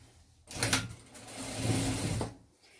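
Sewing machine stitching seams on a fabric shoe bag, a close, steady motor whir running for about two seconds between brief pauses, with no talking.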